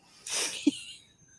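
A single sharp human sneeze, a breathy burst followed by a short voiced snap, close and fairly loud, with quiet surroundings before and after.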